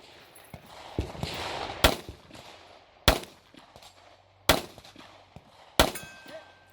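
Single pistol shots ring out at a shooting-competition stage about 40 yards from the targets, four sharp cracks spaced roughly a second or more apart, with softer impacts and movement between them.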